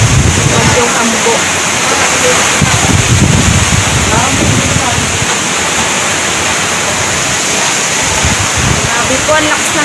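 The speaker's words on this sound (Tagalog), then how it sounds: "Sabi po, ang lakas ng hangin." Strong typhoon wind at signal level three roars continuously and loudly, buffeting the microphone with heavy gusty rumble and a hissing wash, while a voice speaks faintly underneath.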